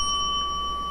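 A kitchen timer goes off when a batch of cookies finishes baking, giving a steady high electronic tone that holds without a break throughout.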